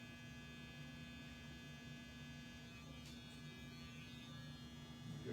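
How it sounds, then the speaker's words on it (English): An electric hair trimmer buzzes steadily while detailing the hairline around a man's ear, a faint, constant close-up hum with no pauses. "turning on the trimmer, and following that line across"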